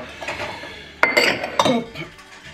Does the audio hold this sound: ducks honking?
no